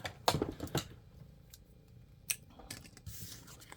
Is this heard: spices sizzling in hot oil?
no